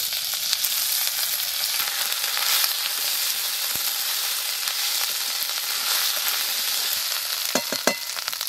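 Ginger-garlic paste with a splash of oil fries loudly in a pan for a small fish and egg masala curry, giving a dense continuous sizzle with a few soft stirring knocks near the end.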